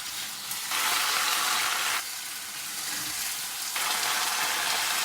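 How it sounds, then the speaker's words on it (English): Loud, steady sizzling of velveted chicken stir-frying in a hot pan, swelling and easing in waves as it is stirred, close up with no voices. "And that maintains that sizzling."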